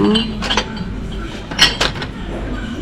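Ceramic dishes and salad bowls clink and clatter together in a kitchen in several close, sharp bursts with a short gap between, set against low background noise.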